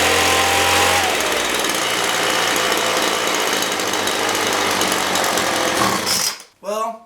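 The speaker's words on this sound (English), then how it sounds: "Well, it does idle now, but when I give it throttle, you heard it, it bogs down." A Poulan Pro 25cc 2-cycle leaf blower engine runs steadily and loudly up close, its buzzing note shifting as it idles and bogs down under throttle, then cuts off abruptly near the end.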